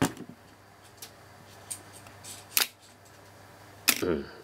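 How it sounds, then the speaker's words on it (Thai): A few sharp mechanical clicks of a Pentax ME film camera shutter, spaced apart, with a louder double click near the end over quiet room noise. "เดี๋ยวผมจะลองกดชัตเตอร์นะครับ"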